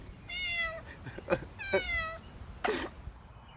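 A small cat meows several times in a row, clear and close, each cry a rising-and-falling wail with short pauses between, over a quiet background.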